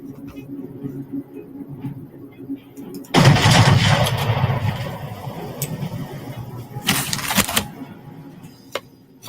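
Naval guns fire in a warship video game, a heavy burst of booming rapid fire starting abruptly after a quieter stretch, then a second sharp volley, with voices talking over parts of it.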